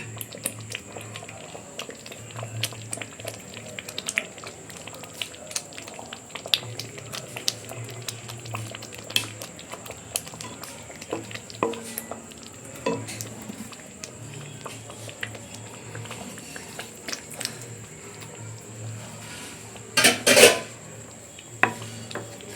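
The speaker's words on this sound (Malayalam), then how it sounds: "നമ്മൾ കഷ്ണാക്കി വെച്ചിരിക്കുന്ന പനീർ ഇട്ട് കൊടുക്കാം" Paneer pieces being stirred into masala in a pan: a steady stream of soft scrapes, light clinks and bubbling simmer, with a louder burst of clattering near the end.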